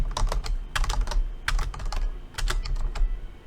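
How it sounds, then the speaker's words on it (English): Rapid typing on a computer keyboard during a password brute-force exercise, close and crisp clusters of key clicks in uneven bursts with short pauses, no voices. "hopefully I will be able to find the ampersand somewhere in my keyboard"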